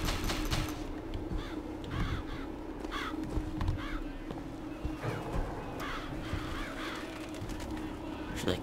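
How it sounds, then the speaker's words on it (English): Several crows caw repeatedly in the video game BioShock Infinite, harsh calls recurring at irregular intervals over a steady ambient game backdrop, moderately near. "Crows, I love crows. Crows are awesome."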